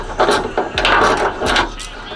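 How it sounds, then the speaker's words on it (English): The last rusted bolt on a car trunk lid is backed out with a hand tool, giving a close series of short scraping, grinding clicks in quick uneven rhythm. "I'm almost finished getting this last bolt backed out"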